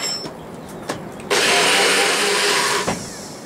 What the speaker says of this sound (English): Pretty much any blender at home is going to be able to blend the super shake up.